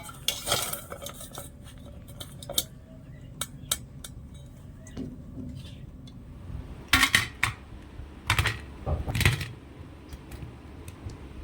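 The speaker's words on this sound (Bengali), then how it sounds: "এবার আমি চিনি শিরা থেকে মিষ্টিগুলো তুলে নেবো" Metal spoon clinking and scraping against a pot while lifting crisp semolina sweets out of sugar syrup, with scattered sharp taps and a busier cluster of clatters toward the end; no talking.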